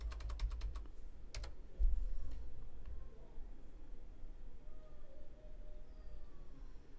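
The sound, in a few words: typing on a computer keyboard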